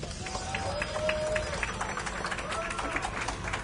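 Live crowd at an esports showmatch applauding a player introduction, a soft wash of clapping and cheering heard far off beneath an announcer's voice.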